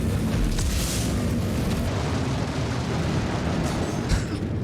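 A heavy rocket blast booms in Star Citizen, a loud rumbling explosion that fills the moment and tails off into a sustained roar with smaller pops and crackles.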